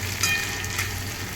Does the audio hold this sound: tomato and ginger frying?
yes